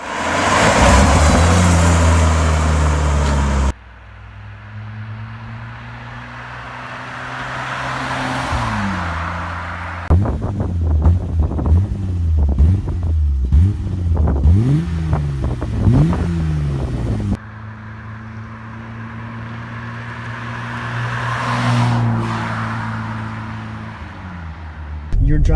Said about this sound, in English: the noise out of a 6-cylinder, a straight 6 for that matter